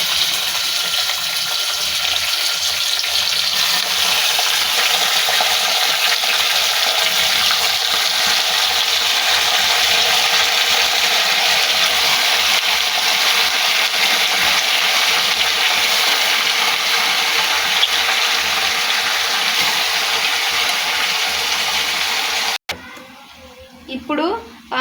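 Washed mutton pieces go into a pan of hot frying masala for a curry, setting off a loud, dense, steady hiss and sizzle that cuts off near the end, followed by brief talk.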